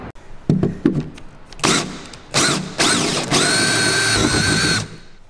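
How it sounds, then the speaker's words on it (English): A power drill bores a hole through a door, with a few knocks and clicks, then several loud whining bursts of the motor that end in one long, steady spin. "Drill that hole, change your drill to a bigger drill."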